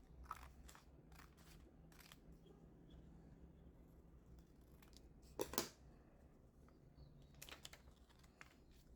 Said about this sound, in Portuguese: eu vou vir com a minha tesourinha e vou cortar toda em volta